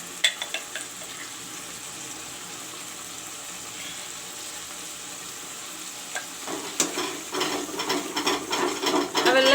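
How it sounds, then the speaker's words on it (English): Masala with turmeric powder frying in a pan for a cauliflower, potato, peas and chicken curry, a soft steady sizzle that turns louder and crackly near the end with stirring scrapes. "I will let the masala brown."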